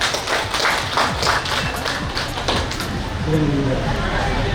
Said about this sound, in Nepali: एकचोटि सबैले ताली बजाइदिनु होला।